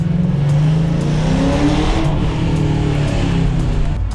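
A drift car's freshly swapped engine idles and revs roughly, a loud continuous low rumble with uneven, stumbling misfires, close and steady throughout with no talking.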